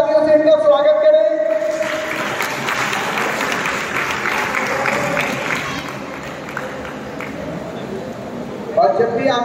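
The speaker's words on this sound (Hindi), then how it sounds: "दर्शकों से भी निवेदन है कि एक बार जोरदार तालियों से इनका स्वागत करें।" Loud audience applause at a school under-14 match at KVS Misa Cantt, a dense wash of clapping that starts after a brief announcer's voice and carries on steadily, with crowd noise mixed in, until it tapers near the end.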